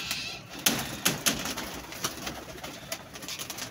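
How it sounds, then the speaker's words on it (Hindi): Pigeons cooing nearby at a pigeon-keeping rooftop, soft repeated coos and rustles alternating with a few sharper flutters, faint overall with no talk. "कबूतर खुश हो जाता है ज़रा।"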